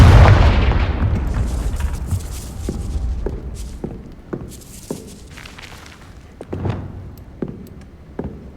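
A fiery Confringo spell blast goes off near a gatehouse in Hogwarts Legacy: one loud, deep boom at the very start rolls away, then softer thuds and footstep-like knocks follow at intervals.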